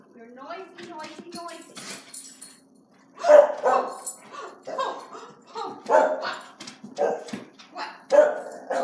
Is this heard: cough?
no